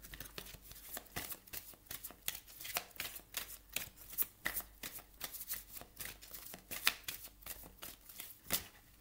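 Tarot cards are shuffled by hand, a long run of crisp riffling bursts and soft slaps repeating in an uneven rhythm, close and fairly quiet, with no talking.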